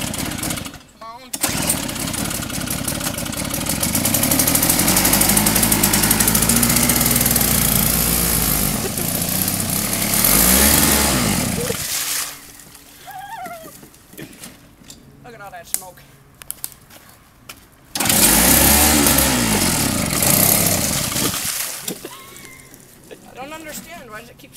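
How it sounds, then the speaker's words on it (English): A small snowblower engine revs loudly and steadily while being driven through mud, then bogs down and stalls; it restarts for another loud burst later, with a person speaking in between. "Me and Kellen, we got the snowblower, and we're gonna mud bog it."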